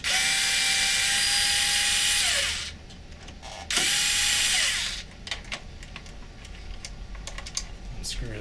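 A power screwdriver whirs in two loud bursts, spinning out the screw holding the separation pad inside an HP LaserJet CP3505 printer, followed by light clicks and plastic handling noises.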